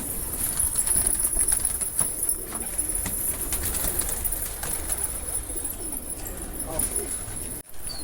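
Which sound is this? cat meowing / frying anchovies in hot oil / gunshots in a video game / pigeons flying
pigeons flying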